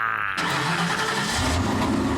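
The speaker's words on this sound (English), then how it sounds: "Listen to that engine. She purrs like a kitten." A Corvette ZR1 engine fires up abruptly after a brief quiet, settling into a low, steady rumbling idle close by.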